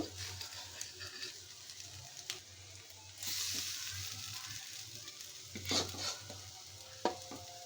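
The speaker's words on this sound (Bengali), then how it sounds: "দেখেন একদম অল্প তেল দিয়ে আমি বড়াগুলো ভেজে নিতেছি" Shrimp fritters fry in a little oil with a soft crackling sizzle, broken by occasional spatula scrapes and stirring clatter, close and fairly quiet, a louder burst of sizzling midway.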